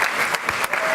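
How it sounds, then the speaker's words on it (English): Applause from an audience at a school district recognition event, a brief, dense wash of many hands clapping together, steady and fairly loud throughout. "Give them a round of applause."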